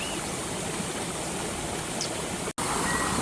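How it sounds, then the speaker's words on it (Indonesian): Natural river water flowing steadily in Arizona, a broad continuous rushing wash close by, with a brief dropout near the end and no talk. "air sungai."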